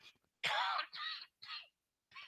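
A man coughs and clears his throat, a loud harsh cough followed by three shorter rasping bursts separated by brief silences, close to the microphone.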